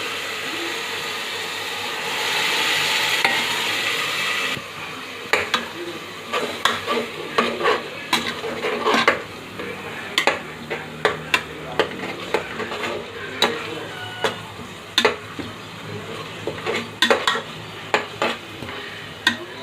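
Biryani base with mint frying in a pot, a steady sizzle under repeated close spoon scrapes and stirring clatters, loud and alone with no talk.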